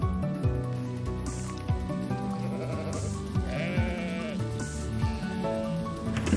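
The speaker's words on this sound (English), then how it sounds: "So we are rounding up sheep." Many sheep bleat over one another during a roundup in New Zealand, a busy overlapping chorus of wavering calls, some near and some farther off, with steady background noise.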